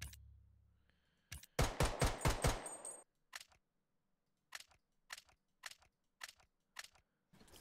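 M700 sniper rifle fire in the Bloodstrike shooter game, with a rapid burst of sharp cracks followed by a spaced series of single crisp shots, loud and close, with no talking.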